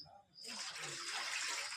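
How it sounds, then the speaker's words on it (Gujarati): Water pours into a dhokla steamer used to cook bitter gourd leaf muthiya, a steady rushing splash that begins after a brief quiet moment and continues close and loud. "તો મેં એમાં પાણી નાખી દીધું"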